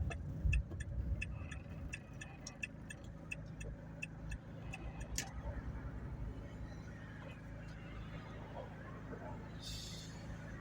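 A car creeps through congested city traffic with a low, steady engine and road rumble. A rhythmic ticking runs over it at first, and muffled voices murmur in the background.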